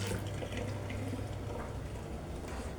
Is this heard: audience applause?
no